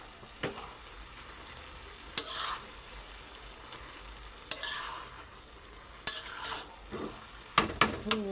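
Cabbage stir-fry (bhaji) turned in a pan on the stove, with a soft steady sizzle broken by sharp scrapes and clinks of the spatula against the pan, coming in irregular bursts and a quick cluster near the end.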